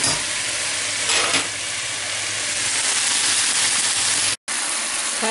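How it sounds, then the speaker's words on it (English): Steady bubbling and sizzling from a pot of boiling pasta fill the clip, with a brief scraping stir near the start and a short cut of silence toward the end. "Give that a little stir."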